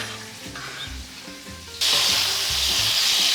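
Cherry tomatoes with zucchini and garlic go into a hot pan and fry, starting as a soft bubbling sizzle with a few low taps, then jumping into a loud, steady, close-up hiss that continues to the end.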